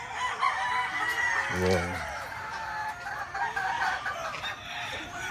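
Black dome breeding pullets and roosters cluck steadily on a poultry farm, with a rooster crowing once partway through, under someone talking throughout.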